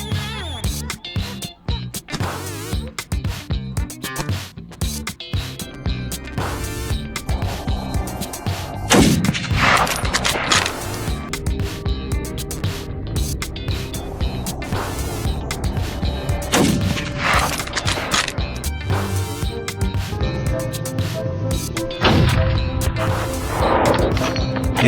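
Rifle fire rings out during a wild boar hunt: a long run of sharp, loud bangs and cracks, some isolated and some clustered, set against a constant busy background with almost no talk.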